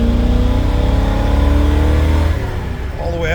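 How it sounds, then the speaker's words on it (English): A Ford 460 EFI engine, tuned by its own ECU on a standalone harness, revs loud and close out to the rev limiter in a sustained harmonic roar, then drops off near the end. "All the way out to the rev limiter"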